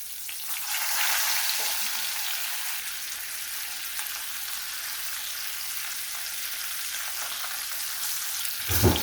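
Pork chops frying in a pan of oil, a steady, broad sizzle that holds close and even throughout, with a brief louder clatter at the very end.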